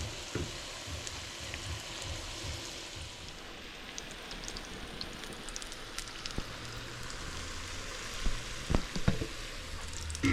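Vada pav potato fritter frying in hot oil, a steady soft sizzle and crackle throughout with occasional louder pops, fairly quiet and close.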